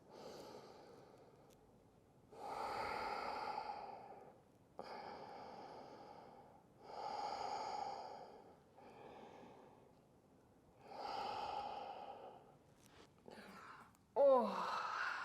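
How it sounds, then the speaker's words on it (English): Slow, deep breaths drawn in and let out during a follow-along middle-splits stretching routine: about four long inhale and exhale cycles separated by quiet pauses, close to the microphone, ending with a brief sharper exhale. "Let's give it 3 more breaths"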